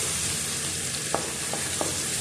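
Tomato and onion fry in butter in a pan, a soft constant sizzle broken by three brief scraping clicks of stirring, close and alone without speech.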